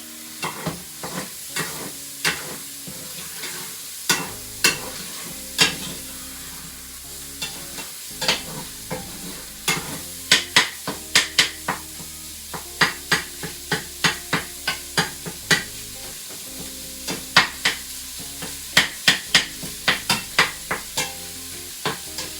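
Meat browning for Zuppa Toscana fries and sizzles in a pot while a spoon stirs it, with a steady close crackle under a long run of sharp scraping and clanking strokes, no voices.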